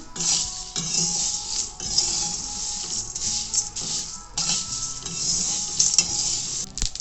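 Cumin and other spices are roasted in a pan for Solapur-style masala tikhat while being stirred, giving loud close scraping and rustling in uneven strokes over a steady dry sizzle, with no talking.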